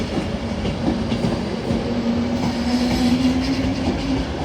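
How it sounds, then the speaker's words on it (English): An Avanti West Coast Class 390 Pendolino departs Carlisle station, wheels rumbling and clicking over the rails with a rising whine as it gathers speed, steady and fairly loud throughout. "So departing now shortly should be your 1208. City of Coventry will be your 1208 Avanti West Coast service"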